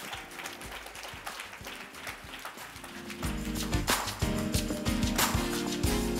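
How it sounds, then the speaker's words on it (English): Congregation applauding a church member receiving a certificate at a service, steady clapping from a crowd that swells louder and fuller partway through and carries on to the end. "Come on, let's keep clapping for Joseph."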